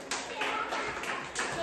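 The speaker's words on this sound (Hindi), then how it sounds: "तालियां एक बार सब सबके लिए।" Children at a workshop clap for the winning teams, a quick burst of scattered handclaps in a few waves, moderately faint, with voices talking over it.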